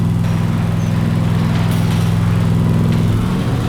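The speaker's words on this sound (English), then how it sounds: "Get the lawnmower out." A nearly new lawn mower engine runs steadily nearby, a loud continuous droning hum with strong low tones that shifts slightly near the end, with no talking.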